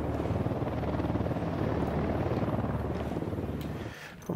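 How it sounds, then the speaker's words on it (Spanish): A helicopter in the video game Ghost Recon Wildlands thrums with a loud, steady rotor chop and engine drone that holds throughout, then cuts off abruptly near the end, with no talking. "Helicóptero."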